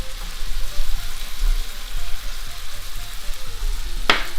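Shrimp and tomatoes fry in garlic butter with a loud, steady sizzle close up, ending in a brief sharp clink of a utensil against the pan.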